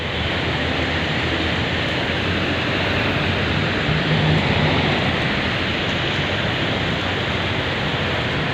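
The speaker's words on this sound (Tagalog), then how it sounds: "Grabe ang lakas po ng ulan." Heavy rain pours down beneath a mall overhang in the Philippines, a dense, steady roar of falling water that stays loud and unbroken from start to finish, with no voices.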